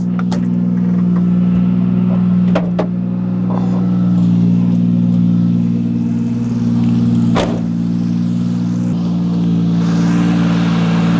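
A car engine droning loud and steady while drifting, with a constant low hum, a few sharp knocks and clicks cutting through, and a faint rising whoosh near the end.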